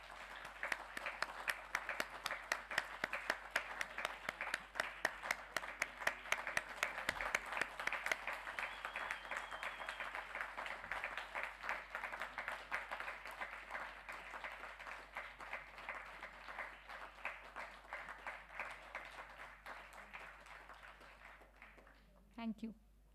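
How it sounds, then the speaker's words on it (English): A large business conference audience applauds steadily for about twenty seconds, a dense, sustained wash of clapping that gradually thins and fades out near the end. "A huge round of applause,"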